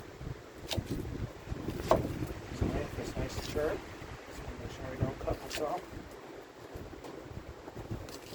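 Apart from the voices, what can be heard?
strong wind outdoors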